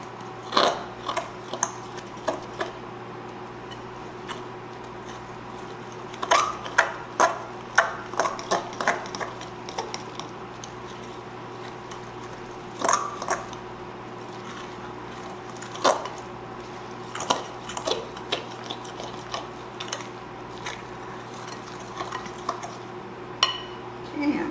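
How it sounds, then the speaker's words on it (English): A spoon stirs pancake-mix beer bread batter in a bowl, making scattered clinks and scrapes against the bowl in irregular bursts over a quiet room, with no talking. "let's mix this up"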